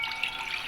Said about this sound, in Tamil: இந்த கப் அளவு தண்ணி சேர்க்குறேன்.